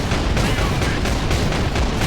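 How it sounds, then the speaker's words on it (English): Autocannon fire in Warhammer 40,000 Space Marine, a loud, steady stream of heavy rapid shots pounding without pause through a dense wall of battle noise. "it's an autocannon"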